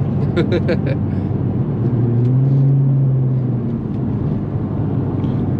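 An Infiniti G35 drives hard along a back road, its engine and tyre rumble loud and steady throughout, with a rising engine tone in the middle and a brief voice near the start.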